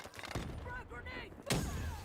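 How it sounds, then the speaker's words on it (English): A frag grenade detonates in Black Ops 3 multiplayer, a sudden broadband blast at mid-clip that rings on over game chatter and announcer-style voices, with gunfire-like thumps before it. "Frag grenade."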